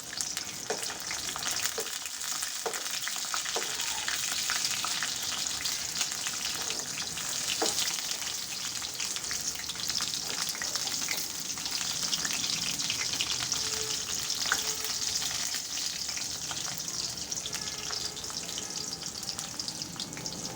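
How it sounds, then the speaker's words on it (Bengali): Constant gentle sizzling of pumpkin and taro leaf fritters in oil, dotted with small pops and crackles, steady and nearby throughout, with no speech. "এইভাবে আমি প্রত্যেকটা বড়া ভেজে নিবো"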